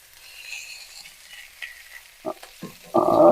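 Seared salmon for a bourbon salmon dish hisses faintly in a hot pan, then erupts into a loud, dense sizzle after being flipped near the end.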